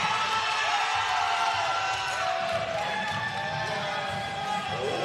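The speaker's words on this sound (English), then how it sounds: "Pro Cyclones crowd happy about that finish." A jai alai crowd cheers and roars steadily after a straight-sets match finish, a dense, continuous wash of voices and whoops with no pauses across the few seconds.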